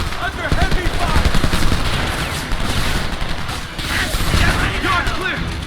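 Heavy gunfire in the video game Homefront: dense, sustained bursts of automatic fire and crackling shots, loud and continuous, with voices mixed into the battle noise.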